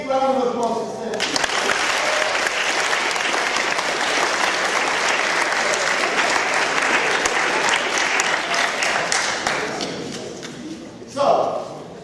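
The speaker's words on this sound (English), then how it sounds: "big round of applause for Steph" An audience gives a big round of applause at a school event, loud, dense clapping rising sharply and holding for several seconds before tapering off, with a few voices at the edges.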